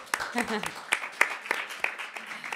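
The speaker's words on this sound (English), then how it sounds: "And applause for you as well" At a talk on the ethical and social impact of technology, a small audience gives sparse, spaced claps for a speaker while people talk over them.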